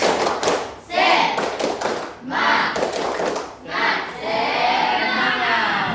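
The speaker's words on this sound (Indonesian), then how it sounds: "Mari kita tepuk semangat terlebih dahulu." Fifth-grade pupils at SD Negeri 8 Tanjung Bona perform the 'tepuk semangat' clapping chant, rhythmic bursts of group claps alternating with chanted children's voices, close and lively.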